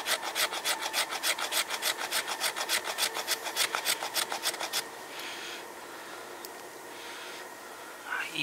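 A Mora Condor knife shaves fat wood in a rapid run of about twenty even rasping strokes close by, then stops, leaving quiet room tone with a faint scrape near the end.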